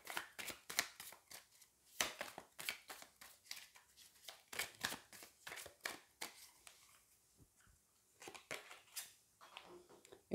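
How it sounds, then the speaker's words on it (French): A deck of cards is handled and a card drawn during a card reading, giving a series of close, quiet papery snaps and riffles in irregular bursts with short pauses between them. "On va aller prendre une carte sur celle-ci pour voir un petit peu ce qui se passe dans tout ça."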